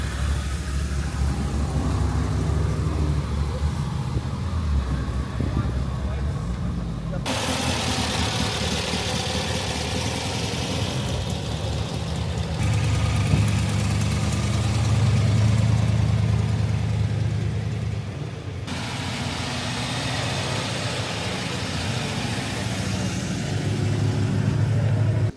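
Classic cars leave a vintage car show on the Kurplatz in Bad Bentheim, their engines idling and rumbling steadily in the open air, with occasional revving and abrupt shifts between passages, with no talking.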